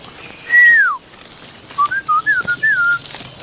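A person whistles up close, first one long falling note, then a quick run of short, chirpy rising and falling notes, loud and clear with no talking.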